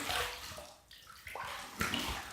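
Running water rinses a shaving brush and razor, a soft, steady splash and trickle with brief changes as the items pass under the flow, fairly quiet and close.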